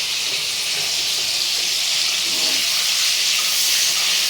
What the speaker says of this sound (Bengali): উচ্ছেটাকে ভাজছি।